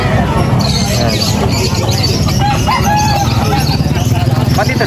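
Serama chickens crowing at a busy pet market in Angeles City, with loud, drawn-out crows rising over constant crowd babble, talk and the clucks of other fowl close by.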